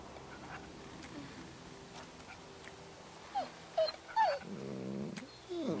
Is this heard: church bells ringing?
no